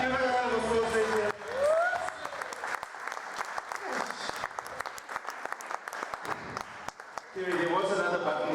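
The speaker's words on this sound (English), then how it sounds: "Give it a round of applause," Theatre audience applauding loudly through most of the stretch, a dense wash of clapping that fades as a voice returns at the start and end.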